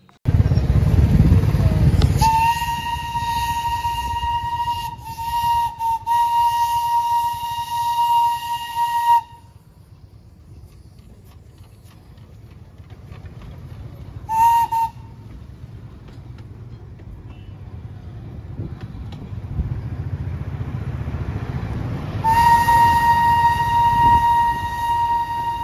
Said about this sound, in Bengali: সামনেই একটা টয় ট্রেন ধোয়া উড়িয়ে চলেছে